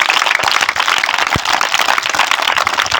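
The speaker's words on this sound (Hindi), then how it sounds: "जोरदार तालियां एक बार बच्चे के लिए।" Applause for a child at a village school, a dense rattle of clapping hands that fills the whole moment with steady, close-packed claps and a few sharper individual slaps standing out.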